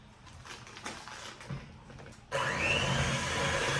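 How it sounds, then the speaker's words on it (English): An electric mixer runs on low speed, blending cookie dough as a dry mixture is worked into creamed butter and sugar. Quiet room noise with a few soft knocks gives way to a sudden, steady, loud whirring motor that holds to the end. "mix on low speed until incorporated, and then gradually blend the dry mixture into the creamed mixture"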